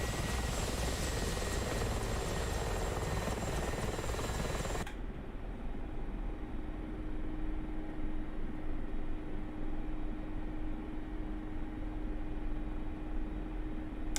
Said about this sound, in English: So I'm now hovering over the runway and just moving forwards slowly.